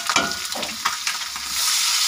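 Potatoes tumble into a sizzling stinging catfish curry and are stirred, a close, loud hiss of frying with scraping stirs and clatter that settles into a steady sizzle.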